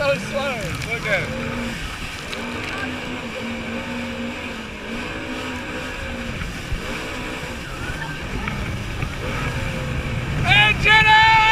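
A jet ski engine drones and whines steadily while riding over waves on open water, with varying pitch, wind and splashing, and excited voices shouting over it.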